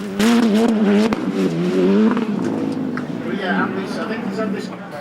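A Polaris RZR Pro R off-road vehicle runs its engine in the arena at Goodwood Festival of Speed, a continuous loud drone heard under steady commentary from a man.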